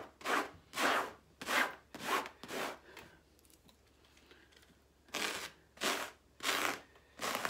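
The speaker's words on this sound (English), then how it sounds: "It's scraping my fabric here." A fabric shaver scraping across fabric in rhythmic back-and-forth rubbing strokes, about six in a run, then a quiet gap, then four more, close and moderately soft.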